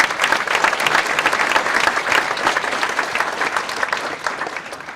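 Audience applause at a Rare Disease Day proclamation event in Cambridge, a steady dense wash of clapping hands lasting throughout, fairly loud and even with no speech over it.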